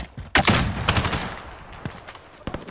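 Gunfire in Call of Duty: Modern Warfare multiplayer, a sharp loud burst of shots followed by a few scattered single cracks fading out, with no talk over it.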